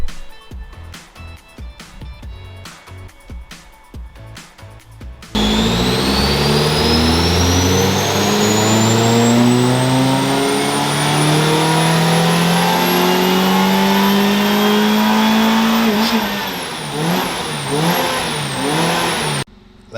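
A supercharged Suzuki Ignis Sport engine on a dyno roars up through a long, rising rev, climbing steadily in pitch, then drops and burbles through a few quick throttle blips before cutting off. Loud and close.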